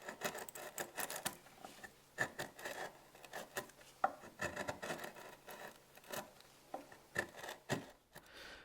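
Wood chisel chopping a mortise for a Benchcrafted Glide M leg vice, the blade held in a firm grip: a steady series of close, crisp taps and scraping cuts with short pauses, no talking.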